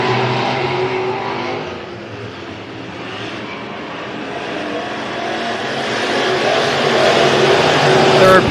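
A dirt-track race car, number 44, roars off at a weekly speedway event, its loud engine droning continuously with other cars blending into a dense, rising wall of engine noise.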